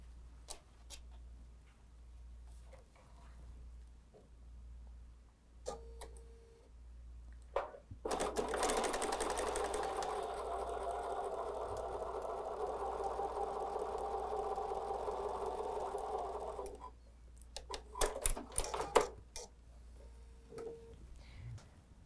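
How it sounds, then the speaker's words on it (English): A sewing machine stitches a quarter-inch seam through fabric in one continuous run of about eight seconds. Quiet handling clicks and rustles come before and after the stitching. "we need to sew 1/4 inch seam allowance from here to here"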